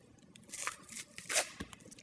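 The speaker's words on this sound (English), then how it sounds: "we can peel the paper or the connective tissue off of the cut" Connective tissue is peeled off a beef cut taken from the ribs near the diaphragm, giving a few close, soft tearing and crinkling rips in quick succession with no voices.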